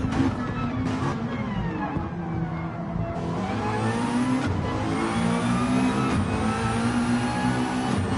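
Several McLaren race car engines in a sim racing game roar together in a dense, continuous drone, pitches rising and falling through gear changes as the cars battle closely.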